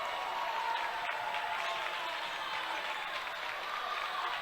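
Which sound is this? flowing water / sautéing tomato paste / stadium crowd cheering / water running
stadium crowd cheering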